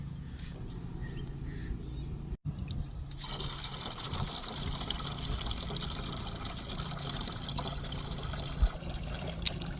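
Soapy grey water drains from a camper's dump line at camp, a steady close trickle and pour running the whole time, briefly cut off once early before flowing on with a slightly fuller splash.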